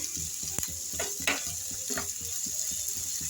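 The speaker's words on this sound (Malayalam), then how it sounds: "ആ എണ്ണയിൽ കിടന്ന് ഈ തക്കാളിയും പച്ചമുളകും ഉള്ളിയൊക്കെ നന്നായി വഴന്ന്" Tomato, green chilli and onion sauté in oil in a village kitchen pan, a continuous crackling sizzle broken by sharp spoon scrapes and clicks as they are stirred, close and fairly loud, no voices.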